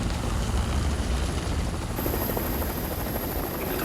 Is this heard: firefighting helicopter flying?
yes